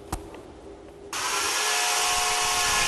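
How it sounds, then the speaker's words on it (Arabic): An ice sculptor working in Dubai carves a block of ice with a saw and chisel, starting with a few light knocks and scrapes before a loud, steady grinding power-tool whine takes over and runs on without a break. "باستخدام منشار وأزميل ينحت فنان من سريلانكا مختلف المجسمات والأشكال من الثلج"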